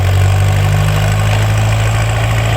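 A tractor engine idles steadily at an engineering show, a loud, constant low rumble with a throbbing vibration that holds evenly throughout, with no talk over it.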